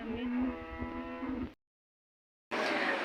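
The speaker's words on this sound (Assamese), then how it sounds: "ইয়াত গৰু ফাৰ্ম এখনো আছে।" At a cattle farm, a cow lets out a drawn-out moo close by, followed by a second of silence before outdoor background noise returns.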